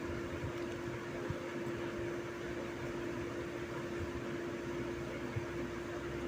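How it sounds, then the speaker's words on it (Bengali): An electric mixer grinder whirs steadily as it grinds whole spice ingredients into a powdered masala, a loud, even motor drone that runs unbroken from start to finish with no voices. "সমস্ত উপকরণগুলো দেওয়ার পর একটি মিক্সিংয়ে ভালো করে মিক্সড করে নেব।"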